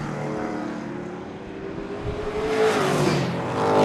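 Late model race cars roar around Seekonk Speedway, a blurred chorus of engines rising in pitch and growing louder as the pack sweeps nearer.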